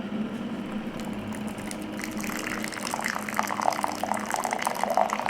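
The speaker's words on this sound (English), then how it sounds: "we're going to measure out 1/2 cup of boiling water." Boiling water is poured into a measuring cup, half a cup for a no-bake Jello roll-up dessert: a soft, continuous liquid rush that swells slightly toward the end, close and without talk.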